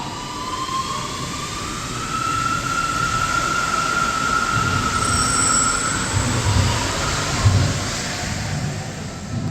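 A VAL 208 automated metro train runs past with a loud, sustained roar and a high whining tone throughout, steady and close, with no talk.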